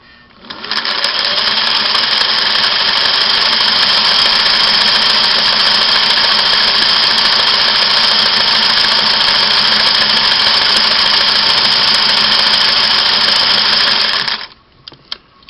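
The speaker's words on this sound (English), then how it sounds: "Let's see what a satin stitch that wide looks like here." A Singer 503A sewing machine running a wide zigzag satin stitch at maximum width, a loud, close, steady mechanical whir and rapid needle chatter lasting about fourteen seconds before stopping abruptly.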